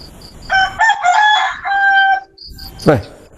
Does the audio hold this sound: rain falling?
no